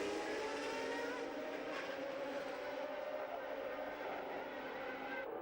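Formula 1 race cars from the 1989 season, a Ferrari and a Williams Renault, roar steadily at a race start, a sustained loud high-pitched engine wail with shifting pitch and no letup, joined by distant crowd and commentary noise.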